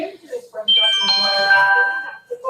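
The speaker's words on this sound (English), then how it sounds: "You have a text message." Text message notification tone, a bright chiming multi-note alert ringing clearly for over a second between bits of nearby talk.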